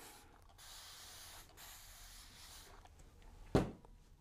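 A can sprays flocking onto silk flowers for a winter arrangement, giving a soft, steady hiss at close range that pauses briefly, followed by a sharp knock near the end, with no talking.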